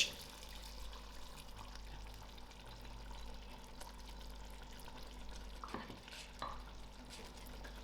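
Mixed vegetables are tipped into a pan of softened tomatoes and stirred, giving quiet scraping, shuffling and soft sizzling over a low background hum, with a few sharper clinks near the end.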